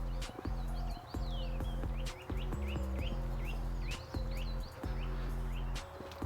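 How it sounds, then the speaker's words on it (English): Birds chirp and tweet repeatedly in the open air, short high calls scattered over a steady low rumble, with occasional thumps nearby. "birds, especially the birds, you'll hear those quite a lot"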